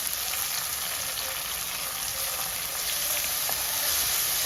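Crushed shallots and green chillies sizzle in a pan for a Kerala-style pepper sardine curry, a steady, close frying crackle that carries on evenly with no voices.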